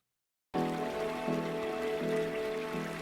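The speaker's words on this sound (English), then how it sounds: "I also like to have my rain sounds swell in." Ambient rain sample swelling in at the start of a lo-fi beat arrangement, a steady hiss of rainfall layered under soft repeating chords with a gentle looping rhythm.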